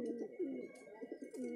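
Kalduma high flying pigeons coo close by in a series of soft, throaty, rolling calls that repeat steadily, with no one talking.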